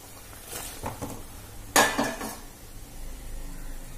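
Fish pieces (keluthi, a pond fish) are dropped into a pot of boiling fish curry. A few soft clatters of handling lead to one sharp splash-and-clink, then a quiet simmer.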